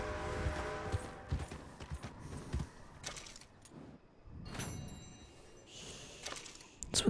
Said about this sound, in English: Horse wasn't going to stop.